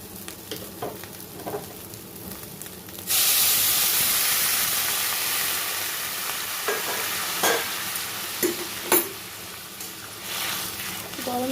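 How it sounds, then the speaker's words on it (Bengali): Hot water hits a pan of sautéed banana-stem, shrimp and Gobindobhog rice mixture, a loud steady sizzle and steam hiss that lasts several seconds, with stirring clatters. "এখানে আমি দিয়ে দিচ্ছি গরম জল"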